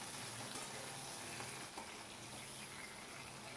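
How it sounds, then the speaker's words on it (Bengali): Potato pieces frying in leftover oil in a pan, a steady, soft sizzle that holds evenly throughout with no talk. "এবার যে তেলটা বাঁচলো, তার মধ্যে আমি এবারে আলুগুলোকে ছেড়ে দিচ্ছি"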